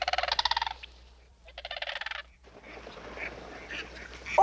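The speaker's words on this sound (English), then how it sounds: "that loudest sound that we're hearing, that's Mr. Mallard" A mallard duck calls loudly and nearby in two rapid rhythmic bursts of raspy, pulsing quacks, followed by softer bird noises and background chatter.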